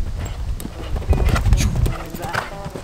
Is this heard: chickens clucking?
no